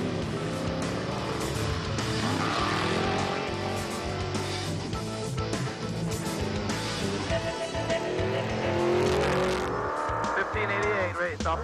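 Off-road race truck number 1588 launches off the start line at the 2009 Vegas to Reno 1000 desert race, its engine roaring loud and steady throughout, with voices and other sound mixed in over it.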